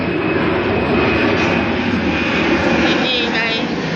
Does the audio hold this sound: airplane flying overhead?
yes